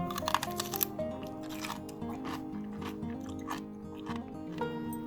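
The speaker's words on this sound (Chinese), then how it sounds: "让我来咬一口给大家听听看。" Crunchy fermented sour cabbage is bitten and chewed up close, with a sharp crisp bite at the start followed by a series of quieter wet crunches.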